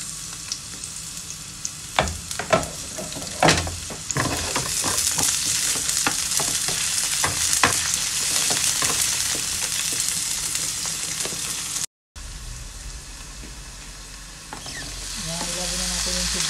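Onions sizzle and fry loudly in a hot pan at home, with repeated scraping stirs and clinks of a spatula; the frying is steady throughout, with a brief break near the end.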